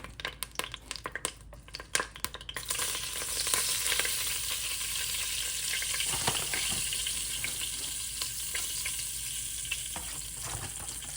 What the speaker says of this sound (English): And I'm gonna whisk this. I'm just gonna make a little bit of a roux.